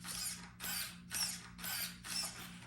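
Steering servo on a WPL C24-1 RC truck, whirring back and forth in five quick bursts, close and fairly quiet over a low hum.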